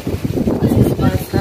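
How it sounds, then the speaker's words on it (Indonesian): Strong wind blows outdoors in a rural village on Lombok, buffeting the microphone with a gusty rumble beneath a speaking voice. "Masya Allah, lagi angin kenceng."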